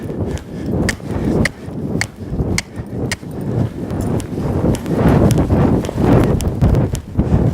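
A young horse canters, and its hooves strike in a quick, even clip-clop rhythm that stays close and clear for the whole stretch.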